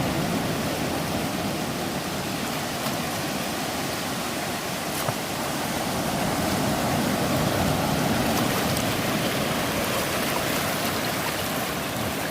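Sea waves wash onto the shore at Lakshadweep in a continuous, even roar of surf, loud and near with no distinct separate crashes standing out.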